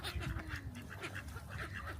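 Ducks at a park in Aschaffenburg, Germany quack repeatedly at a distance over a steady outdoor background hum, several calls overlapping in an irregular rhythm.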